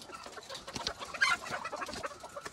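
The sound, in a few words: chickens clucking in a poultry shed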